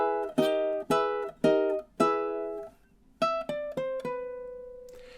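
A ukulele plays the Luigi's Mansion theme, strumming four ringing chords, a short pause, then a quick run of single plucked notes in a sixteenth-note riff, close and clear without talking.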